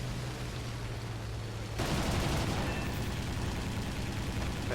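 Cannon fire from a Ki-61-1c Hei fighter plane in War Thunder arcade battles forms a dense, sustained rattling roar mixed with engine drone. It grows louder partway through and continues without pause.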